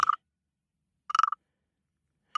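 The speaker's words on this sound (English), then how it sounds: "Tiddalink is a frog that lives in the Australian outback." Three short, sharp croaks spaced about a second apart, each a brief rattling burst, with silence in between.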